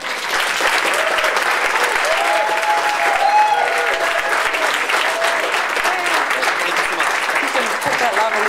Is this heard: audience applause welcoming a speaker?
yes